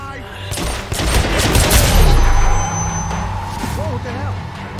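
Bursts of automatic gunfire from enemies in the video game Hitman Absolution rattle in fast volleys and then fade into rumbling game ambience, loud and close.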